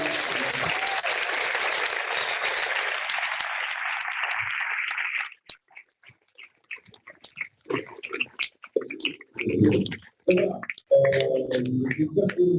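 An audience applauds at a French event, dense clapping for about five seconds that stops abruptly, followed by scattered bumps, murmurs and talk.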